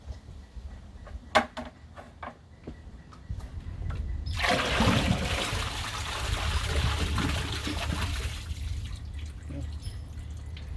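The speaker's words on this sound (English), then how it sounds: "we'll do these straight flush tests one more time with 1 gallon" An American Standard or Kohler toilet bowl flushes after a one-gallon bucket of water is dumped into it. A loud rushing surge runs for about four seconds, then settles into a long gurgling drain and trickle, preceded by a few drips.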